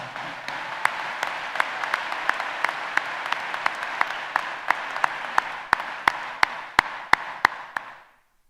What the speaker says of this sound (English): Let's give our Board of Education a round of applause